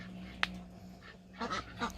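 Ducks and drakes in a backyard flock give a few short nasal calls, one sharp call early and a cluster of honking quacks near the end, close by over a steady low hum.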